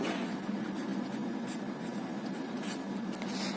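A pen scratches steadily across a maths worksheet, writing out an answer in a close, continuous scritching with small bursts, over a constant low hum and no speech.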